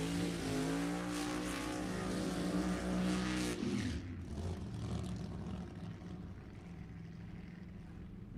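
A 1959 Coons Racing Corvette and a green 1969 Camaro at a drag race at Sacramento Raceway, loud sustained engine roar that holds strong, then drops and fades as the cars pull away.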